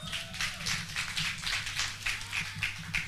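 A crowd at a Netflix reality show launch claps in a steady rhythm, with fairly close, evenly spaced claps over a low background hum.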